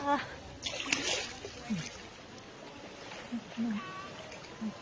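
Water splashes in short, scattered bursts as someone bathes outdoors with a scant water supply, close by, while voices talk over it.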